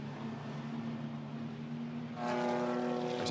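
A Toyota GR Supra GT4 race car engine roars during a race at Zandvoort, a steady distant drone that swells into a louder, nearer pass with rising revs.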